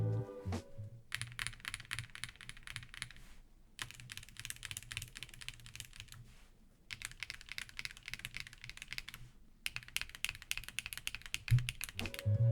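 Clacky mechanical keyboard typing in several bursts of rapid keystrokes, separated by brief pauses, close and fairly quiet.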